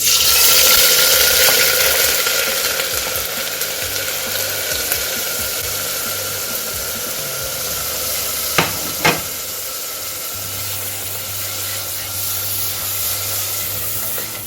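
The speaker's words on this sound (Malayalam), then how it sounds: "ഇത് നമുക്ക് എണ്ണയിലൊന്ന് വഴറ്റിയെടുക്കണം." Ground coconut paste sautés in coconut oil in a hot pan, giving a steady soft sizzle with stirring scrapes and a couple of brief sharp knocks of a spoon.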